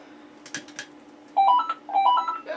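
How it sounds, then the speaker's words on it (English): A telephone rings with an electronic warbling tone in two short repeated bursts, fairly close and clear, after a few soft knocks in an otherwise quiet room. "And the phone rings yet again."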